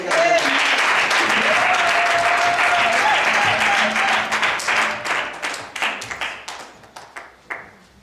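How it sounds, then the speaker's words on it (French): A church congregation at a mission service in Canada bursts into dense, loud applause that holds steady, then thins into scattered, fading claps. "Mais nous allons acclamons Dieu pour le pasteur Célestin."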